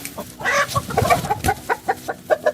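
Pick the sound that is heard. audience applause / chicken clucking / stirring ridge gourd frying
chicken clucking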